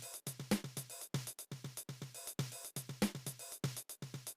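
Programmed drum pattern in 5/4 mixing an acoustic snare and an electric snare, with straight sixteenth notes: a steady run of crisp, evenly spaced hits repeating in a tight, quiet loop.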